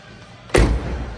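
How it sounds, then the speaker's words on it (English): The door of a 1989 Chevrolet Camaro IROC-Z shuts with a single solid thump, close and loud, after a moment of quiet. "Doors open and close nicely, as I stated."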